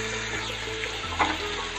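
Large chopped onions tipped into hot oil for a Tamil tomato chicken biryani, giving a steady broadband sizzle with a brief louder crackle burst partway through; no talking.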